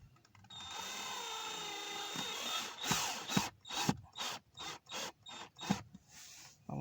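Screws for an aluminium pedal driven in on a Citroen C4 1.6 HDi: a sustained motor whine for a couple of seconds, then a series of short, sharp ratcheting bursts in uneven rhythm, close by and moderately loud.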